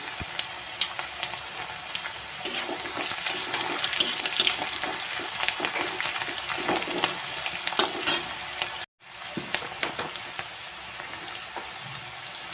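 Crushed garlic and black cumin seeds fry in hot oil with a steady close sizzle and crackle, broken by stirring clatters and a brief dropout before the hiss resumes.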